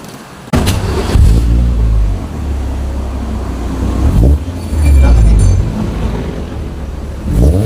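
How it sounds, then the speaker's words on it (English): Ford Lynx with a GReddy exhaust muffler, running close by and loud: a deep, bassy engine rumble that swells with several revs and settles back to idle between them, with no talking. "Let's hear the first sound check of this muffler now."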